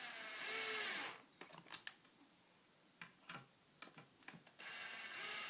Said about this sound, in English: simply do up the screws